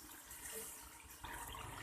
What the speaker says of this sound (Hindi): थोड़ा सा फिलहाल मैं पानी शामिल करूंगी ताकि मसाले जले नहीं